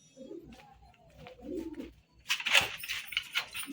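Pigeons kept in a cage, one of them sick with a cold, give soft cooing calls and rustling wing movements up close, then a louder burst of bright fluttering and scuffling toward the end, with no talking.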